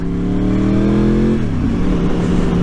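A close, loud Yamaha R1 sport motorcycle engine revving up with rising pitch, then shifting and pulling away as it accelerates hard.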